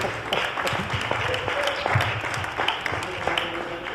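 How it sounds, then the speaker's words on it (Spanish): Applause from a studio audience greeting a guest named Hopkins on a Spanish talk show about an athlete's memories, with steady dense clapping throughout, a few voices faintly audible underneath. "Un fuerte aplauso para Hopkins el Negrero"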